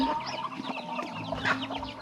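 Chickens cluck in a coop at close range, a busy overlapping chorus of short, choppy calls that keeps going without pause and with no talk over it.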